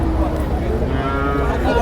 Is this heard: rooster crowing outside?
no